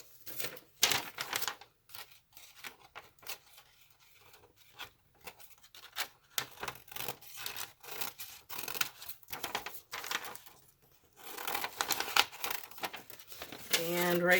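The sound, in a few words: cutting a piece of Tyvek in half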